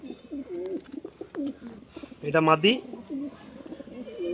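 Home-bred flying pigeons, a male and female pair, give low soft coos nearby while someone talks over them, with a brief louder fluttering call midway.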